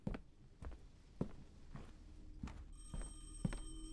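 In the Madison horror game, a telephone rings in a dark house, a steady bright electronic ring entering near the end after a run of quiet, evenly spaced footsteps.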